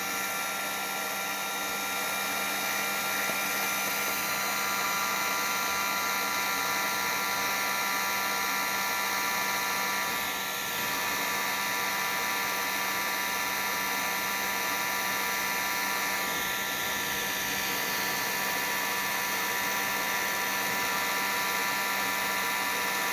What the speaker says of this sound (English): For the rear bushing, I'm going to use the heat gun on low